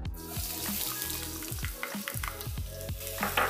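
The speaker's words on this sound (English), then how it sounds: "You want to hear this loud sizzling sound." Garlic and shallot fry in very hot, lightly smoking oil in a pan, giving a loud, steady sizzle and crackle that runs the whole time, with scraping stir strokes on top and no talking.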